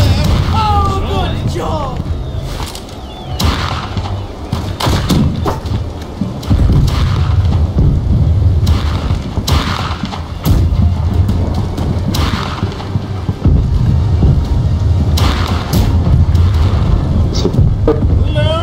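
Heavy ship cannons booming in the pirate naval game Blackwake, a series of deep, loud blasts repeating at irregular intervals over a rumbling battle backdrop.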